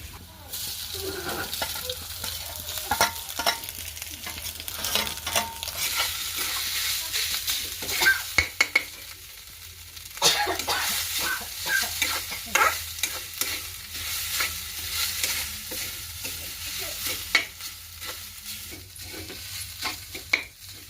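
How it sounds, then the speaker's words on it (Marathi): Onions frying in a pan until reddish, stirred steadily; a continuous close sizzle runs throughout with repeated scraping strokes of the spoon against the pan. "चांगलं भाजू द्यायचं असा लालसर कांदा हो द्यायचा"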